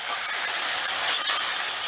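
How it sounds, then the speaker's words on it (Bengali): Loud, steady hissing sizzle of soybean chunks frying in hot oil over a high gas flame, bright and continuous with no voices. "আলু ভাজার তেলের মধ্যেই সোয়াবিনগুলো ভেজে নেব"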